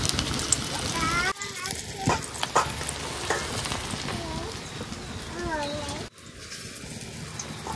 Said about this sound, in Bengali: তো কোপ্তাগুলো ভাজার জন্য কড়াইতে তেল দিয়ে দেবো